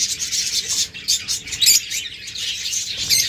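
Pet birds for sale, such as cockatiels, budgerigars and lovebirds in breeding condition, chirp and tweet continuously up close in a busy, overlapping chatter.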